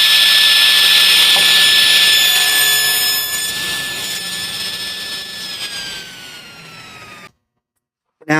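Table saw ripping a workpiece, heard as a loud, high whine that steadies during the cut, then winds down and drops out abruptly before a short burst of noise at the end.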